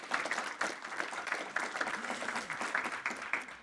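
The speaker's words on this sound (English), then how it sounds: "I would like to ask for a very warm applause for Mr. Paul Lodebeks." Audience at a university event welcomes a speaker with applause, a moderate, steady patter of many hands clapping that continues throughout with no voices on top.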